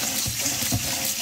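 Cold tap water streaming steadily into a sink for washing sushi rice, a continuous close splashing rush with no break.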